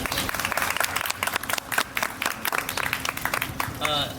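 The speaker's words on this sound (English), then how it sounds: "Please, let's get a round of applause" A crowd at a literary crawl event applauds with enthusiastic, continuous clapping throughout. Voices and cheers mix in, and there is a brief whistle near the end.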